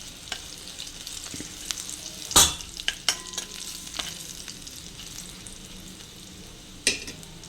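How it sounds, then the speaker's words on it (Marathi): Garlic and dried red chilies sizzle and crackle steadily in oil in a pan, broken by a few sharp clinks of a spoon stirring. "लसूण आणि मिरची छान फ्राय झाली"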